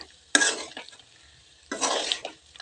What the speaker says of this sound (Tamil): சாந்து எல்லா இடத்துலையும் படுற மாதிரி கிளறி எடுத்துக்கலாங்க.